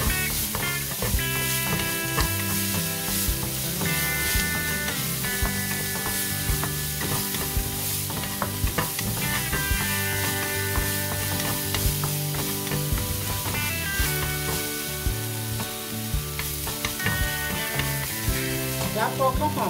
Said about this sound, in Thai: ใส่เนยลงไปนะครับเพื่อน ๆตามด้วยหอมหัวใหญ่นะครับกับพริกสดนะคะ ลงไปผัดให้เข้าหอมนะคะ